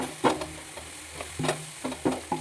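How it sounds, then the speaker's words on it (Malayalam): Ginger-garlic paste going into a pan of pickle being fried, with a steady sizzle broken by several sharp scraping stir strokes, moderately close and with no voices. "കുറച്ച് ഇഞ്ചിയും വെളുത്തുള്ളിയും പേസ്റ്റൂടെ ഇതിലൂടെ ചേർക്കുക."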